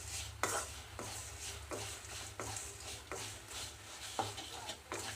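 A spoon scrapes and stirs potato pepper fry in a pan in several rhythmic strokes, close and clear over a steady low hum, with no talking.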